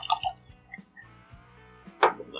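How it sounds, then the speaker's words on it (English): 2XO French Oak bourbon whiskey pours from the bottle into a glass, a quiet, close, liquid trickle with small clinks and gurgles, ending in a brighter tap. "Get this poured."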